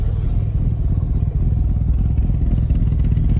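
A freshly built S5 Killer Bee engine idles right after its first start, a loud, steady, close-up chugging rumble with a fast, even pulse and no talk over it.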